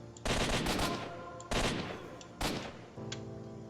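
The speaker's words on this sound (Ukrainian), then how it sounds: "Беремо АК-74 і починаємо розвалювати їх." AK-74 rifle fire in a war video game comes in three loud, sharp bursts of rapid shots, each dying away in a short decaying tail, with no talk over them.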